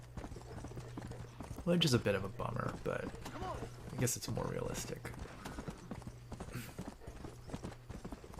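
Horse hooves clip-clop in the Western video game Red Dead Redemption, a soft rhythmic trotting with a few louder hoof strikes, heard under someone talking over a low steady hum.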